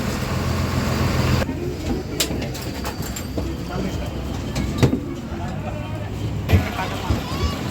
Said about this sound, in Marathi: हे लोणारचं स्टँड आहे